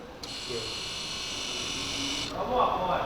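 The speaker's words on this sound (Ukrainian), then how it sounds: "Ну стартерок працює. Давай ще раз запустимо." Starter motor on a Lexus GX470, newly replaced, whirs steadily for about two seconds in one continuous high whine, then cuts off, followed by faint background noise.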